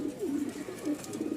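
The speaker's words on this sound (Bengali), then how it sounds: "তো দেখেন মাশাআল্লাহ কি সুন্দর সুন্দর সব কবুতর" Danish giribaj pigeons at a crowded pigeon market in Mirpur-1, Dhaka, coo in repeated rolling phrases, close and steady, layered over one another with faint crowd noise behind.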